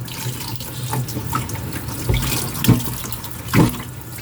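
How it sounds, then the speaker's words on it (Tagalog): Running tap water splashes steadily into a sink as a partly frozen grouper fish is rinsed underneath, with a few louder splashes and clunks as the fish is handled. "maghuhugas na tayo ng lapu-lapu"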